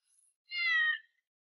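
A single clear, fairly faint meow from a house cat, rising and falling over about half a second, alone in silence with a tiny faint chirp just before it.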